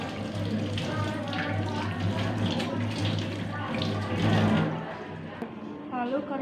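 Hands rinsed under a steadily running tap during a clinical hand-washing procedure, water splashing continuously and close, then easing off near the end.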